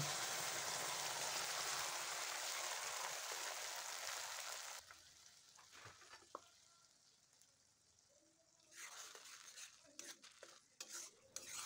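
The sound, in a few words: tomato, onion, garlic, ginger and chilli paste frying in hot oil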